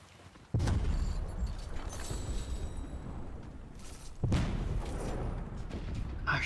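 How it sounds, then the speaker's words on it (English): Explosions in the Fortnite video game: two loud, sudden booming blasts, the first near the start and the second about two thirds through, each followed by a rumbling, crackling tail that fills the clip. "there's so many explosions."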